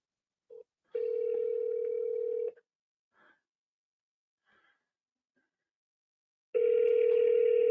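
A telephone call rings out with a steady tone, a short blip and then long, even ringback tones separated by silence. A few faint breaths are heard between the tones.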